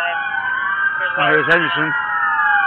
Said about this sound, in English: you can turn your fucking sirens off, guys